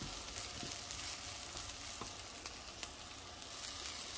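Rice for a salmon and pea risotto sautéing in oil until translucent, a faint, even sizzle with occasional light clicks, heard alone without speech.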